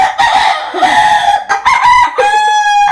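A farm rooster crows loudly and close by in several drawn-out, strained calls, with short clucks and gaps between them.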